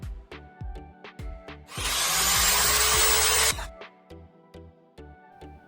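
A power drill bores a hole for the switch in the housing of a homemade drill machine: a loud, sustained whining burst of about two seconds, framed by sharp knocks and taps of handling before and after.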